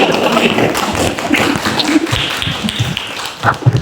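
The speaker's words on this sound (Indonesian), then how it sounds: "Tepuk tangan dulu." Students in a classroom clap together in a brief burst of dense, overlapping hand claps, with some voices mixed in.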